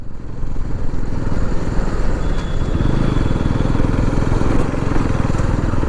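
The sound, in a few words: Ns200 motorcycle being ridden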